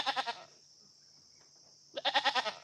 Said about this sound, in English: We're just hanging out with the goats right now.